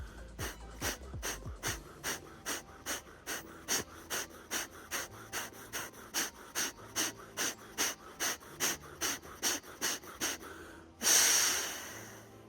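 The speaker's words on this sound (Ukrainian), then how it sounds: "воно це такі часті дихання носом" A person does a breathing exercise, taking rapid, sharp breaths through the nose in an even rhythm, about two per second, close and loud, ending with a longer forceful exhale.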